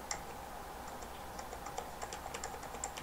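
Soft, quick keyboard arrow key presses tapping in an uneven rhythm, quiet and close, with no talking.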